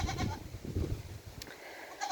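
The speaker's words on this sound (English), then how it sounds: "Oh, wild, yeah, the baby goats are here." Baby goats bleat in short wavering cries in a subtropical Queensland backyard garden in mid-winter, fairly close, with a few calls in a row and a brief high chirp later.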